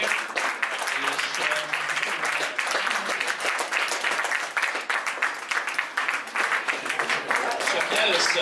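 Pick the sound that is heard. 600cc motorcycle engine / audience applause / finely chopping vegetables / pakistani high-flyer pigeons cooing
audience applause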